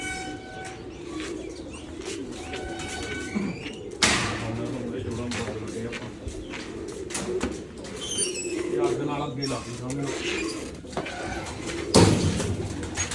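Pigeons coo softly among loud nearby speech, with a couple of sharp knocks or slams breaking in partway through.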